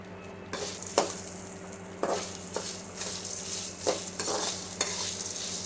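Coconut and tamarind are stirred and fried in a pan, with a steady sizzle running under repeated scraping strokes of a spoon against the metal, close and fairly loud, coming in regular turns about once a second.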